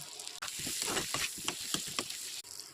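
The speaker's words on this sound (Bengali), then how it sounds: "জিরা, ধনিয়া, হলদি, মরিচ দিয়ে আলু ভেজে নেব।" Potatoes sizzle and crackle in hot oil with cumin, coriander, turmeric and chili, a close, steady frying hiss with small pops and stirring scrapes, no talk.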